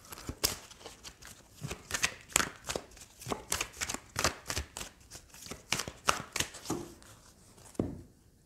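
Oracle cards are shuffled close up in a rapid run of crisp papery riffles and slaps, about two per second and fairly loud, ending in near quiet.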